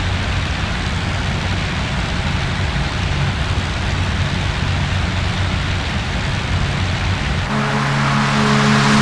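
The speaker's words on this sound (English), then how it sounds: "You can hear the wind around the cockpit and everything." Steady broadband wind rush around the cockpit of a Spitfire in the DCS WW2 flight simulator, a continuous loud airflow roar with engine drone beneath, shifting to a deeper tonal hum near the end, no talk.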